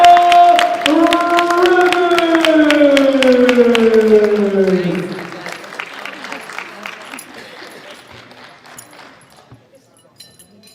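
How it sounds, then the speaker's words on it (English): An audience at the 2016 IPF raw powerlifting world championships applauds a United States lifter. A sustained crowd clatter sits under a loud announcer's sung-out voice, then thins into scattered claps as it fades. "Big round of applause, United States of America, Priscilla Rivers."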